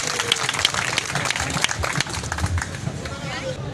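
Applause from a crowd at a public gathering addressed in Urdu, mixed with shouting and crowd babble, steady and fairly loud throughout with uneven peaks.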